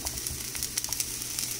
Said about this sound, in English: if you find that sizzling sound comforting to you as well